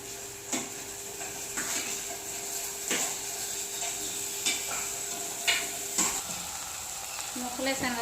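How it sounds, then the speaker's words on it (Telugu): Ridge gourd pieces with onions and green chilies frying in a pan: a steady close sizzle throughout, broken by a few sharp scrapes and clinks of a stirring spoon against the pan. "ఇవన్నీ ఉల్లిపాయలు పచ్చిమిరకాయలు వేగి బీరకాయ ముక్కలు వేసేసుకున్నాం."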